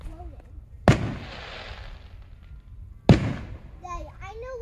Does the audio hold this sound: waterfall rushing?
no